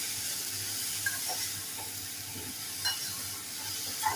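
Dried shrimp and raw mango stir-fried in a pan, a steady low sizzle with occasional soft scrapes and clinks of the spatula as the mix is turned.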